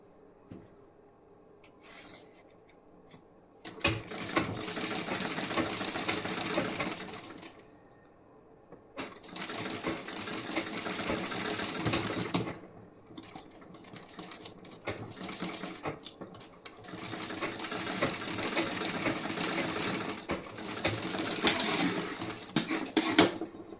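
A sewing machine runs a loose basting stitch along a garment's armhole side in three sustained whirring bursts of several seconds each, separated by quiet pauses, close and steady with light handling noise.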